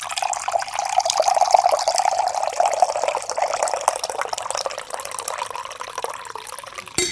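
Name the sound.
pouring Onyx coffee into a cup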